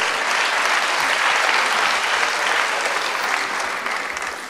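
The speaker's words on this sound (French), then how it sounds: "Applaudissez Camille" An audience applauds an artist named Camille at a live painting show, giving a dense, sustained round of clapping that stays loud and even from start to finish.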